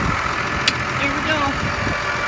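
A warm farm tractor engine idles with a steady low rumble, close and continuous, while faint background noises come and go over it.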